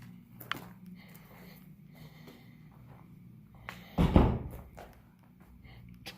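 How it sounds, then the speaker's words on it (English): A door at a haunted daycare on George Air Force Base swings shut with no spring attached, landing as one solid thud amid quiet indoor hallway ambience. "So that door we just walked through just closed on us."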